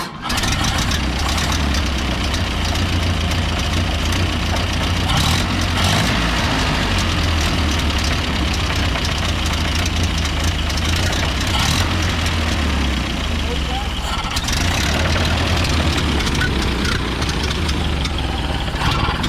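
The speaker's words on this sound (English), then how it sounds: "I'll go show it idling. Yeah, I'll start it up real quick." A truck engine turns over and settles into a steady idle, its low rumble continuous and close throughout, with a brief rev change partway before returning to an even idle.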